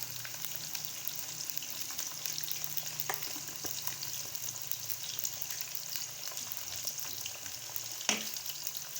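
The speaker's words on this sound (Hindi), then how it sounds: "हम आलू को ऑयल में जो है फ्राई कर लेंगे।" Potatoes fry in hot oil with salt for a dhaba-style aloo palak sabzi, giving a steady, close sizzle that runs the whole time with a single sharp utensil knock near the end and no talking.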